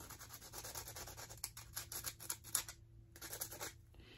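Abrasive scratching on the super glossy surface of a metal saddle concho, a close gritty rasping in quick repeated strokes with a brief pause near the end, no talking.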